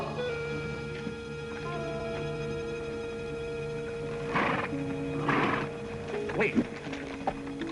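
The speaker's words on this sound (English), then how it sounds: "Did you hear a horse?" A horse whinnies and hooves thud in a Western TV drama setting, heard as a few short bursts midway through over steady background music, with people talking nearby.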